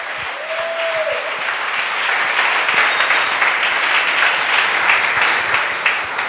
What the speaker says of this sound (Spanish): Ese aplauso es para el Rey.